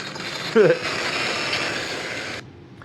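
In Duke Nukem 3D, the Devastator weapon is drawn with a short mechanical ratcheting clank, followed by a steady whirring game hum that cuts off abruptly, loud and close.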